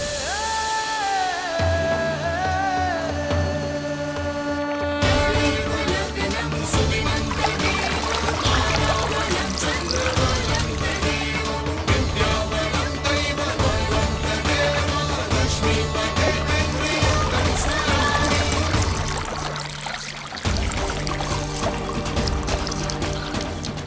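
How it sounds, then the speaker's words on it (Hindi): Water from a burst water tank gushes and pours steadily and loudly throughout, blended with dense dramatic music, with a brief dip near the end. "भागो, पानी की टंकी फट गई है।"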